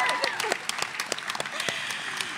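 Applause from a school audience at a grade 11/12 spoken word event, honoring the winners; a steady wash of many hands clapping across the whole stretch, with scattered sharper individual claps and faint cheering.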